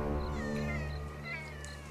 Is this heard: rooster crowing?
no